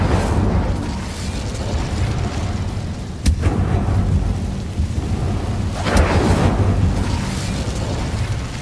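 A fire spell cast in Hogwarts Legacy, a loud rumbling, crackling roar over a dense background, with a sharp burst partway through and another swell near the end.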